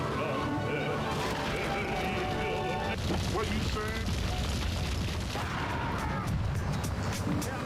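A deep, booming explosion in Grand Theft Auto III rolls out under constant game sound and a voice talking, with a sharp blast partway through and rumbling noise carrying on afterward.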